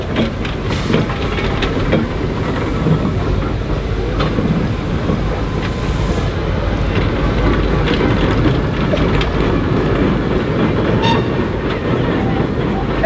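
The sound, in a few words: steam rollers running at a steam rally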